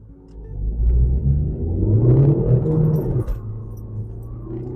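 A Volkswagen Polo 1.9 TDI launches hard on a dry road, its diesel engine rumbling loud and close as it accelerates through the gears for nearly five seconds, with a brief dip at a gear change.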